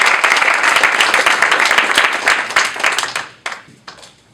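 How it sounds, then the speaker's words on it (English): An audience at a Startup Grind event in Aggieland applauds a former Texas A&M football coach walking onstage, dense clapping that thins out and fades to a few last claps. "Give him a round of applause, please."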